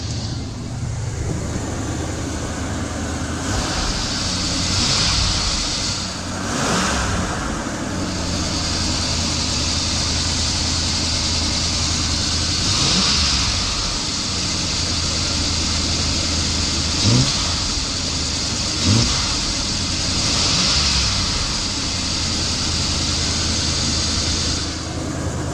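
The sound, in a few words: 1978 Ford E150 engine running after carburetor work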